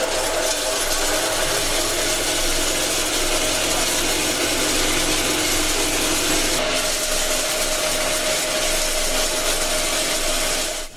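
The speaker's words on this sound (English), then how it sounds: "once ready, it is time for milling" A milling machine grinds sun-dried bananas into powder, giving a loud, steady, dense mechanical roar with a faint whine that runs unbroken and alone for the whole stretch.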